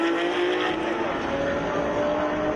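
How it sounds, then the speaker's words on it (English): Lamborghini number 11 race car pulling out of the pits at a 2013 GT Asia round, a steady loud engine drone with a rising pitch as it accelerates away. "Out goes the Lamborghini number 11."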